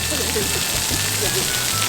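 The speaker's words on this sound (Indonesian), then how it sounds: "Hujan." Steady rain falls outdoors as a continuous broadband hiss, with people talking over it.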